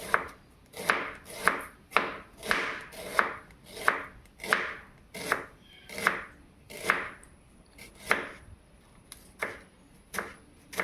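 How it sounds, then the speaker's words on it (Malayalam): Onions and then tomatoes being chopped into small pieces with a knife on a cutting board, a steady run of close, crisp chops about two per second with no talking. "അതൊക്കെ നല്ല ചെറിയ കട്ടായി നേരിങ്ങനെ വേഗം വാടേണ്ട വിധത്തിൽ കട്ടാക്കണം."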